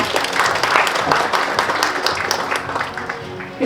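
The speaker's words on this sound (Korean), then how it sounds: "따뜻한 박수 부탁드립니다." An audience at a Korean semiconductor industry panel discussion applauding as panelists walk on stage, dense steady clapping close by that slowly thins toward the end.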